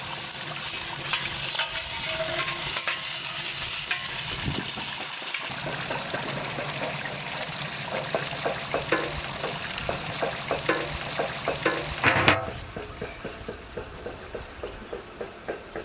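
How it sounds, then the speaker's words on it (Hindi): Ghee is poured onto hot charcoal in a box to smoke a chicken biryani. A steady frying hiss builds to a sharp burst of sizzle late on, then fades to softer crackles. "स्मोक डालने के लिए हम लोग एक बॉक्स में कोल लेके रखे हैं, इसमें घी ऐड करेंगे और इसको स्मोक के साथ ढक देंगे।"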